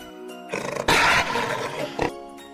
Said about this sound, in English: Big size tiger.